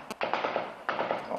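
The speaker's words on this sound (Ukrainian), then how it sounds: "На слух вони розпізнають постріл снайпера." Distant sniper rifle fire at a front-line position: a sharp crack followed by two longer rolling bursts of reports echoing in rapid succession, moderately loud with no speech.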